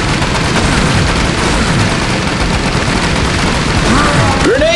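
Rapid continuous SMG fire in the Age of Zombies video game, a dense loud crackle of gunshots mixed with explosions and game effects, running without a break throughout.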